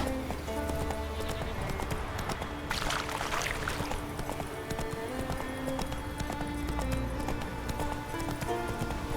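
Roach the horse gallops in The Witcher 3, hooves clip-clopping in a steady rapid rhythm over continuous game music, with a brief whinny-like burst early on.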